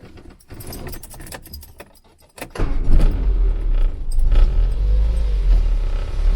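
Keys jangle in the ignition, then an Austin Allegro's swapped-in 1275cc engine cranks and fires, settling into a loud, steady idle close by.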